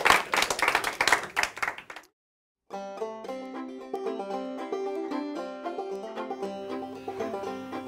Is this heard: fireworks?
no